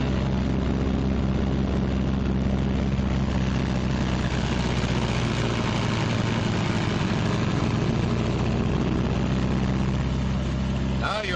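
Twin piston engines of a 1944 B-26 bomber running up together to about 1,800 RPM, a steady, loud, continuous drone with a deep low rumble throughout, close and unbroken.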